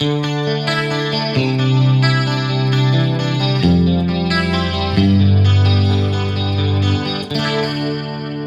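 Electric guitar chords through a Yamaha SPX90 pitch-shift effect, drenched in a thick, shimmering chorus and slightly detuned doubling, wide and sustained, played loud with no voices.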